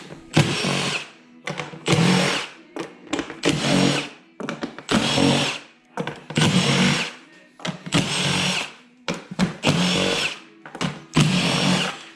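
A power tool works the 10mm bolts around the airbox of a Kawasaki motorcycle in repeated loud bursts, each whirring for about a second with short pauses between.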